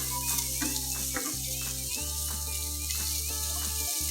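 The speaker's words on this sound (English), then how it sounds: "Basically the chorizo I'm just warming through just to get it going and get the flavours coming out of the chorizo." Chorizo and sausages fry in a pan with a steady close sizzle under a persistent low hum, with occasional brief clinks and stirring sounds.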